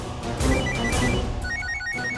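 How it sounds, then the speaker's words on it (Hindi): A phone rings with a repeating electronic tone pattern, loud and close, against some background noise. "फोन बज रहा है"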